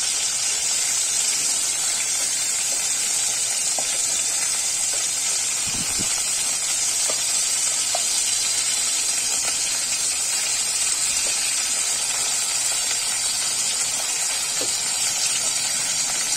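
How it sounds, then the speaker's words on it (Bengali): Fish pieces frying in oil for dudh katla, giving a loud, steady, unbroken hiss that runs the whole length with no talking. "এক পিঠ ভাজা ভাজা হয়ে গেছে, আর এক পিঠ ভাজা হয়ে গেলে হালকা ভাজতে হবে।"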